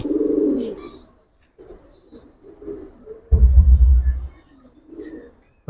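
Giribaz pigeons, a Bangladeshi flying breed kept in a collection, give low soft coos in a few short bursts, with a louder rumbling stretch midway; nearby, fairly close, with no talk over them.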